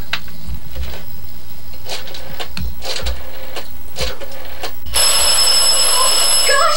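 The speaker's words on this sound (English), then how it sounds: "Gosh, the phone is ringing." A telephone bell rings loudly near the end, a sudden harsh sustained ring following a stretch of quieter clicks and thumps.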